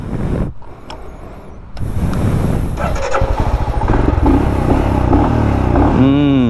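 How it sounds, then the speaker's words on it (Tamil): A 2025 Triumph Scram 440 motorcycle engine rumbles steadily, its exhaust note swelling as it revs higher, with clattering mechanical noise and a rising whine near the end. "த எக்ஸாஸ்ட் நோட்டு அருமையாக இருக்குதுப்பா."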